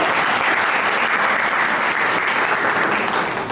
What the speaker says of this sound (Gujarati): આ બધા માટે જોરદાર તાળી બની.